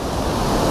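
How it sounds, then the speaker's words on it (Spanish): Rough ocean waves washing onto a sandy beach, a loud, dense rush of surf noise filling a brief moment, with wind mixed in and no voices. "Chéquense las olas, están medias bravas."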